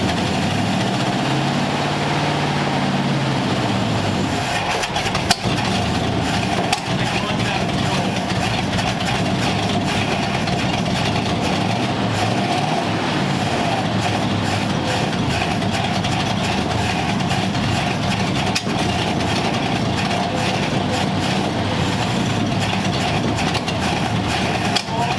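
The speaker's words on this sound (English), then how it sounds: "It's backfiring out of the carb a little bit." A 1946 Ford convertible engine with a rebuilt carb idles in a loud, steady rumble up close, with occasional sharp pops from the carburettor breaking through the drone.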